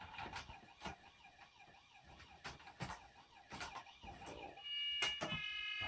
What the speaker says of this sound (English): Can you do the sirens for me?